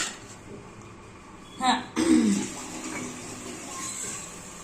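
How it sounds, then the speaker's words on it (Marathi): Cut dried Bombay duck fish are washed in water, with a brief splash and a louder sloshing burst of water mid-clip and a short throat sound before it. "आता हे पाण्यामध्ये ना स्वच्छ धुवायला टाकायचे"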